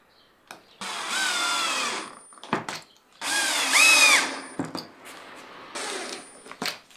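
Power drill driving screws into plywood to hold braces on a set of table legs while glue cures: three long whining bursts of the motor with short pauses and knocks between them, loud and close, no talking.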